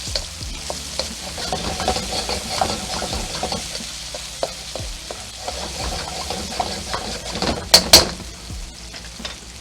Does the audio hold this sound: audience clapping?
no